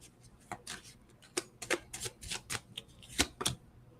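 Tarot cards being shuffled by hand, a run of crisp riffling bursts and soft slaps, close and fairly quiet, with short pauses between clusters.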